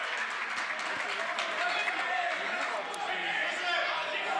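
Basketball crowd at a men's college game, Maranatha vs Principia, with students reacting to a turnover: a steady, loud wash of voices and scattered clapping filling the gym, with commentary over it.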